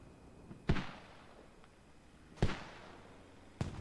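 Mortar rounds firing in a military video game battle, three sharp booming blasts spaced a second or so apart, each with a decaying rumble, fairly distant and with no talk.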